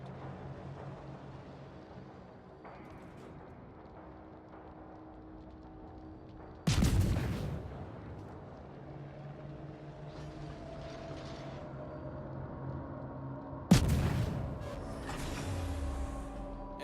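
Two heavy, booming salvos from the Shimakaze destroyer's guns in World of Warships, several seconds apart, each a sudden loud blast with a rumbling tail over a steady engine and sea hum.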